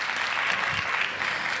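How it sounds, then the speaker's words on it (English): Audience applause for the musicians at a Bharatanatyam arangetram, a dense, steady burst of clapping from a crowd. "Yes, please applaud."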